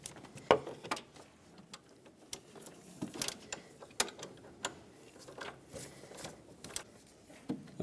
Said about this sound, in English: Let's grab the ratchet and tighten it up.